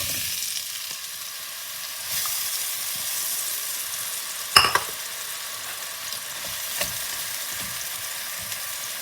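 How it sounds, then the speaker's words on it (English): Cut bananas frying in a couple tablespoons of hot oil in a pan give a steady, close sizzle and hiss, with a sharp clatter near the middle and a few lighter knocks. "So once this is heated, chuck in a couple bananas that you cut up."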